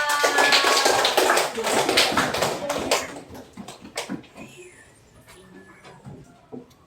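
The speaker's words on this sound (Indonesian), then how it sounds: "tepuk tangan untuk Evan" A classroom of students clapping for a classmate, dense loud applause for about three seconds that thins into scattered claps and fades out.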